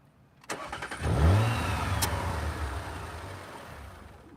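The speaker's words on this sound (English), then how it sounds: "I need to restart the car and turn it off" A 2021 Audi RS5 Sportback Launch Edition restarts with a short starter crank, then the engine catches with a rising roar that settles into a steady idle, heard close and alone.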